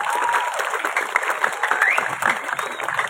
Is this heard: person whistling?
no